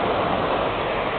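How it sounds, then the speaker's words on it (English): A steady, dense roar of rushing flame from a burner heating a homemade hot air engine, constant and fairly loud, with no breaks or voices over its short span. "The only noise you hear is from the burner."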